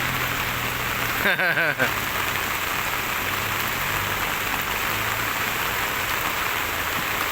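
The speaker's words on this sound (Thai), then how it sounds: "ฝนตกทั่วไทย" Steady rain pours down on a surface, a constant dense hiss throughout, with a brief burst of a voice or whistle early on.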